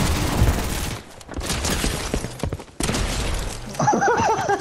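Pump shotgun blasts in a video game, several loud gunfire bursts spread through the stretch with rhythmic pauses, ending with a high ringing tonal effect.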